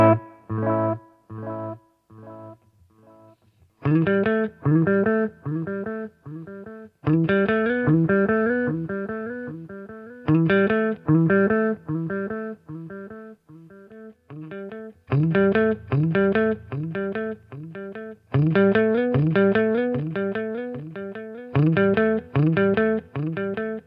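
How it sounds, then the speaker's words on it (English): Guitar played through an analog delay pedal, bright plucked notes and chords each followed by echo repeats that soften and blur as they fade, loud and clear with no voices. "Analog delays, on the other hand, use analog components, meaning they tend to create a warmer, arguably less sterile tone"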